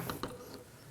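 A ratchet with a 10mm socket loosens a bolt on a 2016-2020 Kia Sorento 2.4L engine, giving a couple of faint, quick clicks followed by a soft mechanical rattle.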